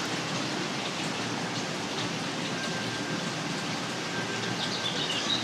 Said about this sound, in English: It's kind of rainy too,